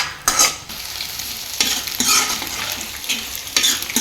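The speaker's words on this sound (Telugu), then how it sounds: "మంచిగా వేయించుకోవాలి." Onions and eggs for egg rice fry loudly in a pan while being stirred, giving a steady close sizzle broken by several sharp scraping strokes of the spatula.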